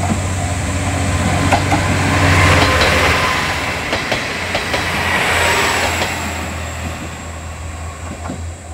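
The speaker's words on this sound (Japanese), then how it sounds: "すると城崎行きの普通列車が来ました。" A local train bound for Kinosaki on the San'in Main Line rolls into a station, a loud steady rumble of wheels and motors that swells and then eases as it slows.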